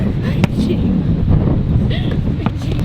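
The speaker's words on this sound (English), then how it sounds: "It is super windy." Strong, cold wind buffets the microphone on a beach, a dense continuous roar throughout with faint voices and small knocks mixed in.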